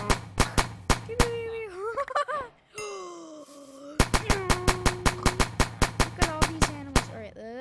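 Rapid, sharp gunshots from guns in modded Minecraft, fired in quick regular bursts with brief gaps, mixed with in-game mob groans and wailing cries between volleys.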